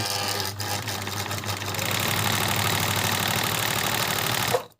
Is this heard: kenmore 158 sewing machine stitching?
yes